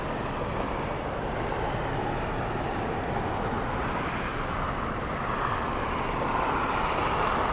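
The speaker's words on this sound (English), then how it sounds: "we have Condor 2080 flying in from Frankfurt, an 11-hour, 17-minute flight for this one" A Condor Airbus A330neo airliner flies in to land at LAX, its engines producing a loud, continuous broadband roar that stays steady and close throughout.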